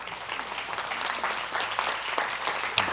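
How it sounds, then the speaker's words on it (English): A congregation at a livestreamed gathering gives a short burst of hand clapping, a brisk, even patter of many hands with one sharp louder clap at the end. "Let's get ready to stand and give Mr. Yahuwah a hand clap"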